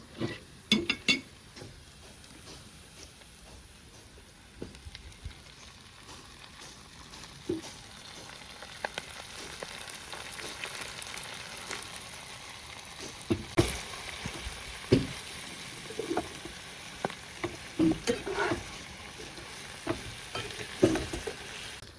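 Malabar spinach stir-fried in a pan, with a low continuous sizzle under repeated spatula scrapes and light metallic clinks that grow busier toward the end.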